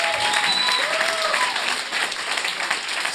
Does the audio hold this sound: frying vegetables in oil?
no